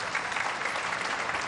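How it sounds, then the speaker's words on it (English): A crowd at a professional pool match claps in steady, dense applause, loud and even throughout, with no voices over it. "a very knowledgeable crowd here applaud"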